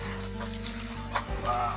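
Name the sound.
turmeric and salt water poured into frying oil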